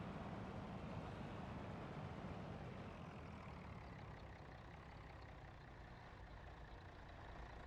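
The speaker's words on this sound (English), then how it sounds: "Truck's got a really nice little idle sound to it." Truck engine idling in the BeamNG driving game, a low steady rumble with a broad, even texture that eases slightly in level over several seconds, faint and alone.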